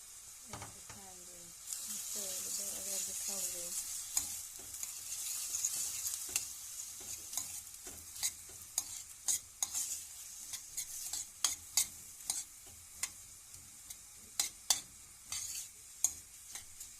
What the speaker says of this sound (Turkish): Yarım yemek kaşığı salça ilave ediyorum. Evet. Beraber kavuracağım şimdi.